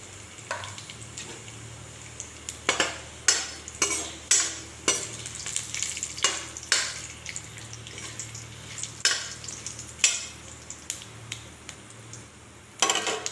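Cumin seeds and a bay leaf sizzle in hot oil in a pan, a steady close fry broken by sharp stirring and scraping strokes, with no one talking.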